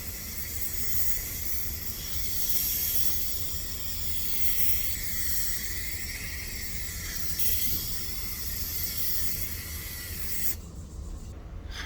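A Rust-Oleum clear coat aerosol sprays onto a 1994 Ford Mustang V6 fender in a continuous close hiss that holds steady for about ten seconds before stopping.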